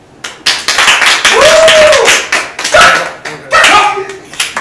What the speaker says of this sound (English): We gave him a round of applause